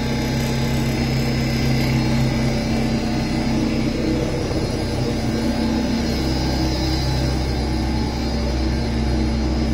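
A Fulton pulse boiler runs with a steady, droning mechanical hum and a low pulsing throb, continuous and even throughout, fairly close, with no voices.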